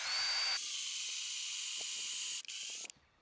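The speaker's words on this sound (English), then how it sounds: "Stay level as you drill your pilot hole." A power drill boring a pilot hole in a fence post whines steadily at high pitch for about three seconds, close and loud, then stops briefly and cuts off.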